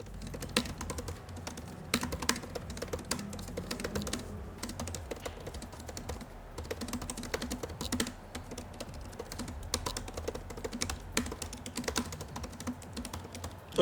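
Typing on the scissor-mechanism keyboard of an M4 MacBook Pro, a dense continuous stream of soft quick key clicks at a steady pace, close and alone for about fourteen seconds.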